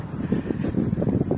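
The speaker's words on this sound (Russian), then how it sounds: "Сейчас ветер." Wind blows outdoors in Odesa on a winter day near freezing, a steady low rumble buffeting the microphone in uneven gusts with no other clear sounds.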